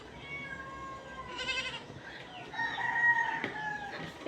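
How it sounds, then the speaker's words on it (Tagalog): A hungry stray cat meows several times, with drawn-out plaintive calls at moderate distance in a quiet outdoor morning setting, with no talk over them. "Yang pusa na ligaw mga wow, gutom din yan."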